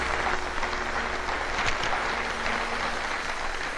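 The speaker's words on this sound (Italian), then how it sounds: "Un applauso all'esploratore sfortunato." Steady, dense applause from a crowd, continuous and fairly loud throughout with no talking over it.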